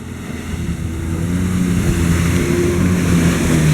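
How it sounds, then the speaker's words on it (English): A jet ski skims past on open water off a Mactan Island beach, a low droning engine hum that builds gradually in loudness over wind and wave noise. "And there's a jet ski."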